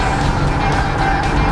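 A 2017 Volkswagen MK7 GTI Performance Pack at full throttle on a timed lap at Lime Rock Park, with its engine droning loud and steady and the tires working against the track, close to the microphone.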